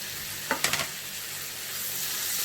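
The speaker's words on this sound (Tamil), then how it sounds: "ஸோ பட்டர் போட்ட உடனே வந்துட்டு மஷ்ரூம் ஆட் பண்ணிடலாம்" Mushrooms hitting hot melted butter in a pan, a few sharp clicks and pops at first, then a steady broadband frying hiss that holds on close and alone without voices.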